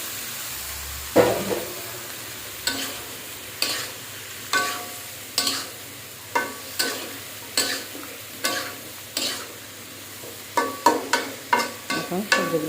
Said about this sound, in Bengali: এখন সবজিগুলো হতে থাক।